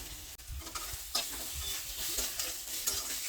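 Tomato masala with ginger garlic paste being stirred and sautéed in a pan for a Bengali fish curry, with steady close sizzling and frying hiss broken by scraping spoon strokes, no voices.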